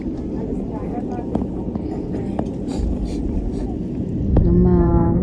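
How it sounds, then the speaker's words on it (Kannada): Airliner engines spooling up for takeoff on a flight from Germany to Bangalore, a steady low cabin roar that swells louder toward the end, with faint voices and small clicks inside the cabin. "ವಿಮಾನ ಇವಾಗ ಸ್ಟಾರ್ಟ್ ಆಗಿದೆ."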